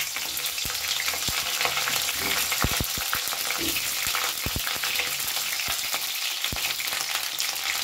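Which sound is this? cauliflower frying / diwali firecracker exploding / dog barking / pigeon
cauliflower frying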